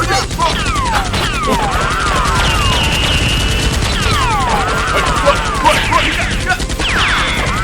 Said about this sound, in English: Unable to withstand the gunfire, Dr. Lee and his guard flee into the forest.